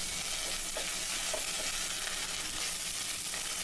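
Spices with ginger paste and crushed green chilies sauteing in a pan for Kashmiri pulao, a steady close frying sizzle with faint stirring scrapes, no voices.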